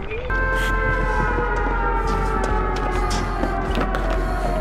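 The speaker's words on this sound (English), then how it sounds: "All I hear is sirens" Sirens wail continuously in the Dead by Daylight game, a loud, sustained rising and falling tone with a few sharp clicks over it and a brief voice from a player.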